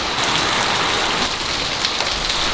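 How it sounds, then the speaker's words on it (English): Heavy rain pours down in a steady, dense hiss, loud and close, with a constant wash of drops hitting surfaces and no voices. "Actually, it is heavily raining, like proper."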